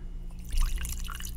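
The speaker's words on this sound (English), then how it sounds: "let me go ahead and pour in a nice shot here" Chivas whisky pours from the bottle into a glass as a shot, a brief close liquid splash and glug over a low background hum.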